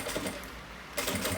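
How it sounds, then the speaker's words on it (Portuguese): A sewing machine stitching fabric for a rolled toiletry bag, a short rapid burst of needle chatter that pauses briefly and then resumes, close and steady with no speech. "E começa a passar, então, a costura"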